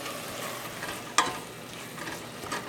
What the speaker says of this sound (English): we're gonna stew them together until our onions get slightly translucent